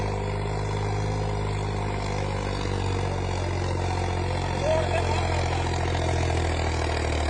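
A tractor engine runs steadily nearby as the tractor is driven in circles, a low rumbling idle with a constant mechanical throb and no speech.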